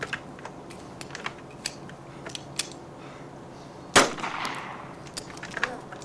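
A single pistol shot in DayZ, fired at a zombie: one sharp, loud crack near the four-second mark, its echo trailing off, set among soft clicking and quiet game ambience.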